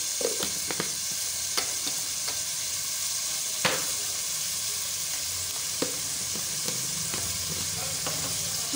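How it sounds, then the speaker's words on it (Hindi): Chicken and spices being fried for a chicken cheese paratha crackle in a dense, continuous sizzle, with scattered ladle clicks and stirring taps. "ये साथ ही भुना जाएगा ना, मसाले भी भुने जाएंगे"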